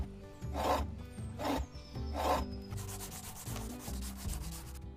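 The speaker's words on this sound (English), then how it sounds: "With both hands free to hold the chisel, he can finally shave the rough wood down into the round piece he needs." A chisel shaves rough wood on a pedal-driven lathe, close and moderately loud, with three scraping strokes followed by a faster steady rasping cut.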